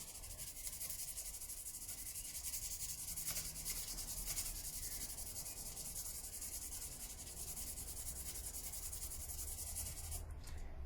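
Hand polishing the finish of an Epiphone Les Paul Modern guitar body makes a steady, soft, continuous rubbing hiss that stays close and even for about eleven seconds, with no voices.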